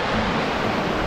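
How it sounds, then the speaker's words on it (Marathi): A large waterfall roars as a dense, constant rush of falling water, loud and close, filling the short stretch with no voices. "जबरदस्त धबधबा आहे."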